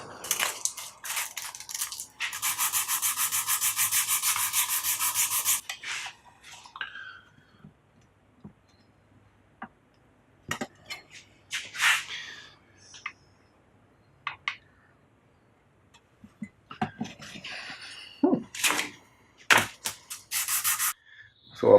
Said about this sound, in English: So after some sanding, the nut is where I want it to be.